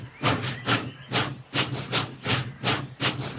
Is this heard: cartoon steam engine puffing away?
yes